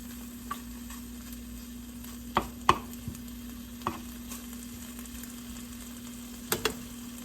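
Pork slices frying in a pan for Japanese shouga-yaki give a steady, soft sizzle, broken by a few sharp clicks and taps from stirring, over a constant low hum.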